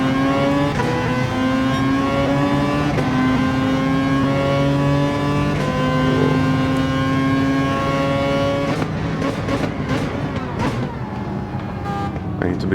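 A race car engine in Gran Turismo 7 revs and holds loud, rising and falling tones through gear changes, close and continuous, while someone talks over it.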